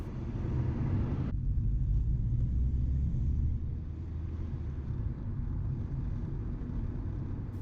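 A car driving smoothly, heard from inside as a steady low rumble of engine and road noise, even and continuous with no sharp changes or voices.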